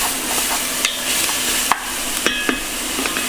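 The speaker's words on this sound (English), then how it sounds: "I've been having my onions and garlic cook in that pot in the oil for about 4 minutes" Onions and garlic cooking in oil in a pot for a creamy mushroom soup give a steady, fairly loud sizzle with a few sharp clinks and scrapes of stirring scattered through it.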